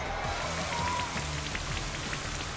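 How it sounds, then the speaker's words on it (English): Steady rain patters on a surface in the video game Pokemon Sword, a continuous hiss of droplets with faint tonal blips mixed in. "Here comes the rain! Feel its cold dampness soak into your body."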